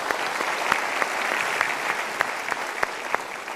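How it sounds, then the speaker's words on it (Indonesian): Steady applause from a studio audience at an Indonesian motivational talk show, a dense even wash of many hands with a few sharper individual claps standing out, no voices. "kita berikan tepuk tangan dulu untuk Pak Joko."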